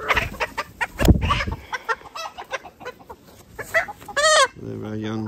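Young laying hens cluck on a farm, scattered calls and clucks coming close and loud with other fowl noises, one rising squawk near the end, and a person speaking briefly among them.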